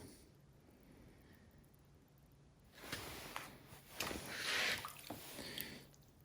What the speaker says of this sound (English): I'm going to dip this in the water.